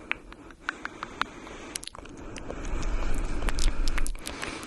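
Close, wet ASMR mouth sounds recorded on a Blue Yeti microphone: soft squishy clicks and smacks come in irregular bursts, very near and intimate, with a low rustling bed that thickens toward the end and no talking.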